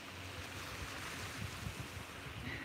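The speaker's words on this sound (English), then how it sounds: "Listen to the sound of these little baby waves crashing this morning." Gentle small morning waves wash in faintly against a beach, a soft continuous hiss with light wind, quiet and distant.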